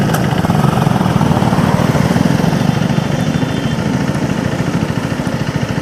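A KTM motorcycle engine runs steadily and loud, close by, with a fast, even, buzzing pulse throughout and no talking.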